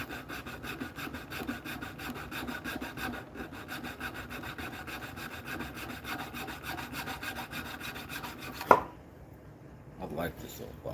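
Rhythmic rasping strokes of needle files working a small bar during finishing, steady back-and-forth scraping for about eight seconds, then a sharp click and near silence with one brief scrape near the end.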